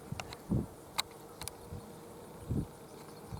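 Bees buzzing around a hive's pollen catcher, faint short buzzes and soft knocks scattered over a quiet background as they try to get in.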